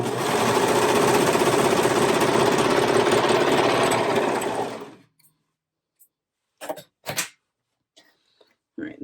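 A sewing machine stitches a sweatshirt cuff in a fast, steady mechanical whir for about five seconds, then stops, followed by a few soft handling clicks and fabric noises.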